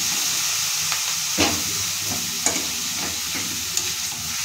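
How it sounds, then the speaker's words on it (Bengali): Boiled cabbage and moong dal tipped into a pan of lightly fried onion, garlic, chilli and curry leaves, giving a steady soft sizzle with a few clinks of stirring, close and alone. "এবার দিয়ে দিচ্ছি বয়েল করা বাঁধাকপি আর মুগ ডাল"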